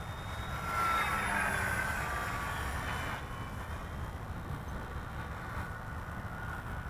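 A Sig T-Clips RC airplane running on a 4S battery makes a slow low pass, its motor whine loud and steady as it nears, then easing off into a quieter wash of wind and distant hum.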